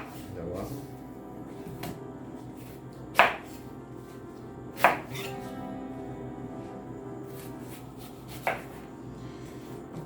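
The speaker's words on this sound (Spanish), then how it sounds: "Ahora voy a picar la cebolla." A knife chops an onion on a cutting board, with three sharp, separate strikes spread out beneath a person speaking in a home kitchen.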